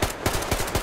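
Automatic gunfire in the video game Metro Exodus, a quick run of about four clipped bursts in under a second, close and fairly loud with no talk over it.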